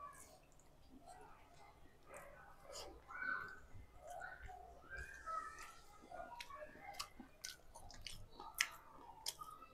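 Someone eats rice with fish curry, with soft, close chewing and wet mouth sounds running steadily along, interrupted by small clicks.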